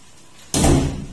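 A door bangs shut in strong wind, one sudden loud slam with a short rattling decay, close by.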